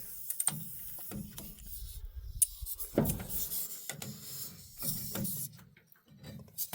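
Ratchet working loose the brake caliper bolts on a 6.7 Cummins truck, giving several short bursts of rapid clicking with brief pauses and a few metallic knocks, close up.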